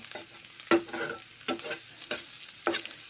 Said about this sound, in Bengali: এইভাবে রান্না করে নিচ্ছি মাশরুম ফুলকপি তরকারি পেঁয়াজগুলো ভেজে নিচ্ছি